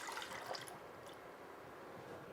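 Water poured for a bechamel: a steady, soft liquid splash and trickle into a container, fairly quiet and continuous throughout.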